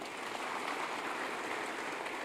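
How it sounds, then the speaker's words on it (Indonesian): A church congregation claps together during a sermon, a steady even patter of many hands at moderate distance with no voices over it. "Tepuk tangan"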